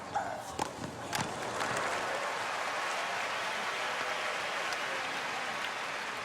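A large crowd applauds at the US Open tennis quarterfinal as Serena and Venus Williams are introduced, a dense, steady roar of clapping heard from a distance, with a few sharp knocks at the start.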